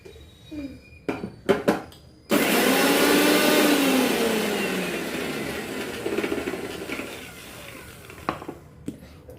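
A mixer grinder pulses a kothambir vadi mixture of coriander: a few light clicks and clatters, then a loud, steady close-up whirring grind that runs about seven seconds before easing off with some rattling.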